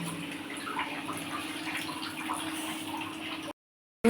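Water streams steadily into a pan for a poppy-seed potol posto, a continuous splashing pour that runs for a few seconds before cutting off abruptly.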